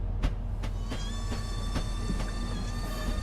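A train rolls along the rails in a train simulator game on a York to Peterborough run, a steady low rumble with evenly spaced wheel clicks passing over rail joints and faint tonal whine, no talk.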